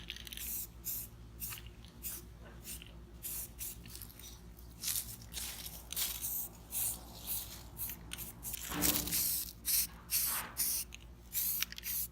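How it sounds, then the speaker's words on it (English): Automotive primer is sprayed from a can onto a Jeep tire carrier in a series of close, hissing bursts of varying length with brief pauses between. "I'm going to put some of this automotive primer on it."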